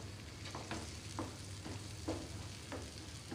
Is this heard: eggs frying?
yes